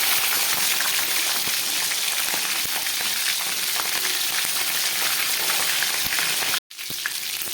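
Tempering spices and green chillies sizzle loudly in hot oil, a dense, continuous crackle with scattered pops, broken by one brief cut near the end; no voices.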